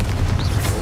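A Confringo blasting spell explodes in Hogwarts Legacy as a loud, rumbling boom with a heavy low-end roar and crackling debris. The burst is sustained and dense, filling the whole moment with no voices.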